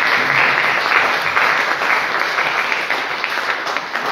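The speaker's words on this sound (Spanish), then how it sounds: "nos damos todos un fuerte aplauso" Loud, steady applause from a gathered audience at a Franciscan youth assembly, dense clapping sustained for the whole stretch with only slight swells and no talk over it.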